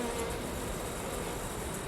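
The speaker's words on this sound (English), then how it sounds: "I don't know if you can hear them humming, but there are a ton of bees." Honey bees hum steadily and densely inside an open hive during a November inspection, a close, continuous buzzing swarm with no talking.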